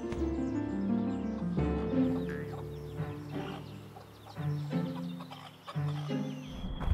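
A chicken clucks repeatedly in a steady run of close, clear calls with no talk over them.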